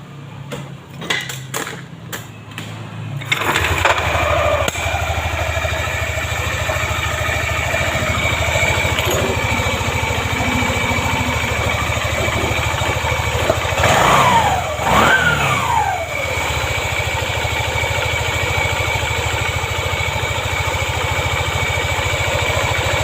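A Yamaha Aerox scooter engine is started after a few seconds of clattering, then settles into a steady, close, continuous idle with a brief rise in revs midway.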